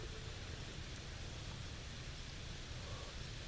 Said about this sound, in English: The rain! It got me in the eye!